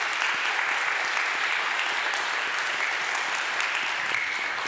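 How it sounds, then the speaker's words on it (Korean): A church congregation at Sunday worship applauds with steady, dense clapping from many hands that continues evenly throughout, with no pauses. "우리 인사하실 때 박수 쳐주시면 감사하겠습니다."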